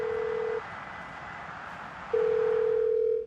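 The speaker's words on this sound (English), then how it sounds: "Hey, Troy, go and have a totally not scheduled phone call with Karen." A telephone dial tone sounds loud and steady for about half a second, cuts out for a gap, then returns and holds for just over a second before stopping, with no voices over it.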